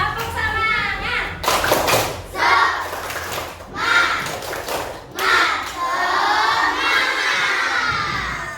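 Elementary schoolchildren in an Indonesian classroom perform the tepuk semangat chant, shouting rhythmic chanted phrases in unison, punctuated by bursts of group clapping and thumps, loud and lively throughout.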